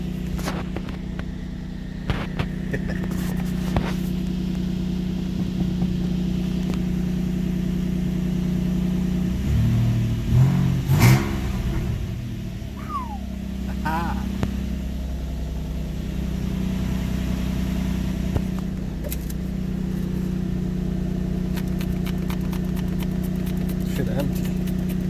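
A Nissan Sentra with a swapped VQ engine and no radiator fitted starts and idles with a steady rumble, rising into a few brief revs partway through before settling back to idle.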